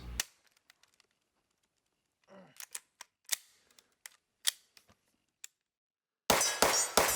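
Charging handle of a Sig MPX K (Gen 3) rifle, stiff and hard to work, racked in a series of sharp, close metallic clacks and clicks spread over several seconds, ending in a few louder, harsher bursts.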